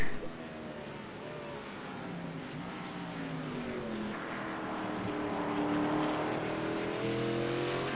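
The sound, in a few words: race cars driving past on road course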